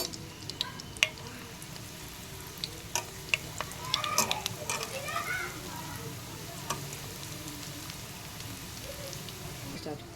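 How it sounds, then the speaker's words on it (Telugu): Bread pieces frying in ghee and oil give a quiet, steady sizzle with scattered crackles and pops, a brief burst of stirring and clatter midway. "ఆయిల్లో నెయ్యి కరిగినాక ఇట్లా బ్రెడ్ ముక్కలు వేసుకోవాలి."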